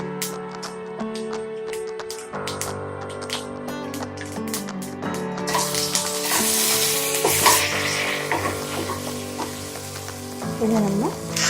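Mint chutney (pudina thuvaiyal) ingredients with urad dal are stirred in a pan over steady sizzling, with scraping strokes of the spoon against the metal. Background music plays underneath throughout.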